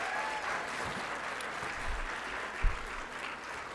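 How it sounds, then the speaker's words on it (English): Audience applause for sponsors at a charity food-tasting event, a steady wash of clapping from a crowd with a few sharper thumps near the end, no speech over it. "Let's give them all a round of applause."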